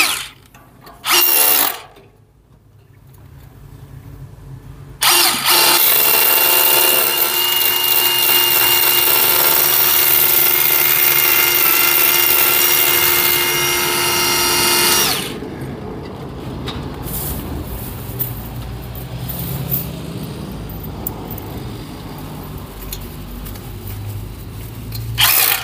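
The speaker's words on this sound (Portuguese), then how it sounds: "E agora é só apertar o parafuso." A power tool drives anchor-bolt screws on a sliding gate, giving one long loud whine of roughly ten seconds after a couple of short bursts. Rougher, quieter mechanical noise follows.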